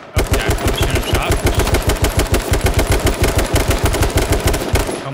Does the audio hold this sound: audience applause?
no